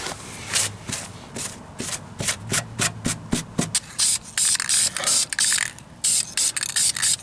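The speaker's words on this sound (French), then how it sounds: "je vais juste essuyer la petite poussière que j'ai faite avec, genre, un linge bleu" A blue cloth wiping dust off a car part on a rusty 2004 vehicle being painted, giving rapid repeated rubbing strokes with scratchy, ratchet-like bursts up close, alone without voices.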